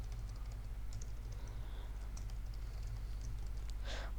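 Someone types on a computer keyboard, a quick run of light, irregular key clicks over a low steady hum, close and fairly quiet, ending in a slightly louder burst.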